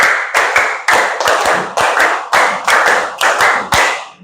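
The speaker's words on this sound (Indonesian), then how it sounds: "Oke, tepuk tangan." A class of children clapping hands together in rhythm, about ten sharp, loud claps in a quick, slightly uneven pattern.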